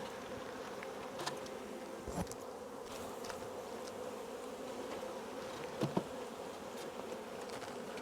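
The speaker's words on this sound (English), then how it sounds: "because there's enough bees in there" Honey bees buzz steadily around a hive in a dense, continuous hum, with a few individual insects droning closer now and then; no voices.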